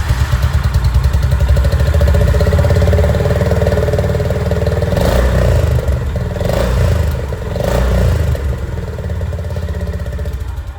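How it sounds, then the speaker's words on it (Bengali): A 348cc single-cylinder air-cooled cruiser motorcycle idles loudly and close with a fast, thumping exhaust pulse, then gets a few quick blips of the throttle that swell and fall before it settles back to idle. "এক্সস্ট সাউন্ডটা আপনারা শুনে নিন।"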